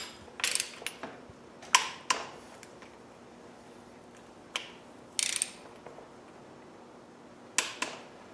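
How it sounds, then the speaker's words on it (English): A torque wrench tightens the transfer box bolts on an LT230 transfer box to 45 newton meters. Several separate bursts of sharp ratcheting clicks sound up close, with quiet gaps between them and no speech. "The torque specified was 45 Newton meters, so get your torque wrench."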